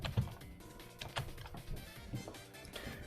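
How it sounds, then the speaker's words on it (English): Computer keyboard typing, soft rapid key clicks and taps in an uneven flurry, close but quiet, with no talking. "Forgive the keyboard sounds"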